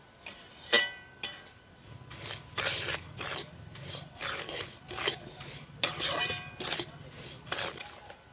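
A spoon scrapes and rubs through semolina and sugar frying in a pan for halwa, a repeated close gritty rasping in uneven strokes with occasional light clinks, and no talking.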